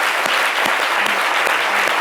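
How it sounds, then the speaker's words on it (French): A studio audience applauds on a midday television show, a dense, steady burst of clapping with a few sharper individual claps standing out, no speech over it. "Il faut les applaudir."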